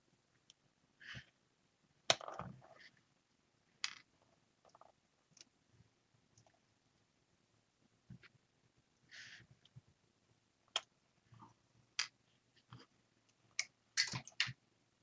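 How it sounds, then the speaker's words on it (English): Scissors snip through rhinestones in sparse, irregular bursts of small sharp clicks and crunches, close and quiet, separated by near silence. "Oh, I'm just cutting rhinestones"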